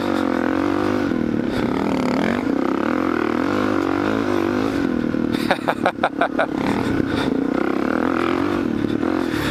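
A Kawasaki KLX470 bored and stroked dual sport motorcycle grunts along in the West Desert with a loud, steady engine drone, a rough burst of revving and clatter midway, then settles back to a constant close rumble.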